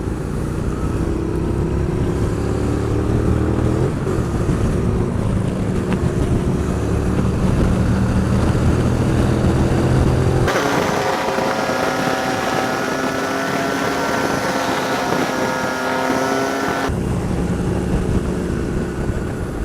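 Group of road motorcycles cruising on the I-20 highway, a loud, continuous engine drone with shifting pitch as the bikes pass close by, mixed with wind and road noise.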